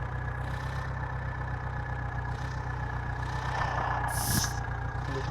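A tractor engine idles steadily in a tractor-driving video game, a continuous low, even rumble heard alone with a brief brighter burst near the end.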